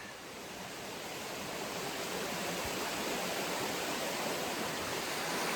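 Benner Run, a creek near where it flows into Black Moshannon Creek, rushes steadily and close by, a dense continuous wash of flowing water that builds slightly at the start and then holds, with no voices.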